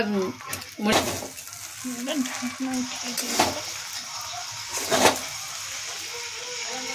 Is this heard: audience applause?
no